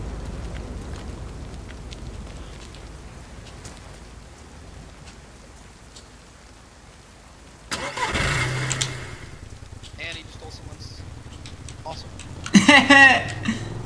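A vehicle engine in DayZ cranks and turns over, catching with a rough rumble, then a second louder burst of revving, with rain-like hiss in the background and people talking throughout.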